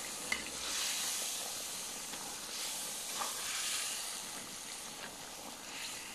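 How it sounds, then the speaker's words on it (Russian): Meat and spices for plov sizzle and hiss steadily in a pot over an open fire, with faint stirring scrapes under a continuous bright frying wash and no voices. "Все это перемешиваем и накрываем крышкой."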